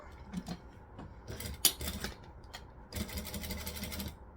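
Sewing machine stitching a fabric bucket bag, bursts of mechanical running broken by short pauses for pivoting, fairly close and moderately loud with no voice over it.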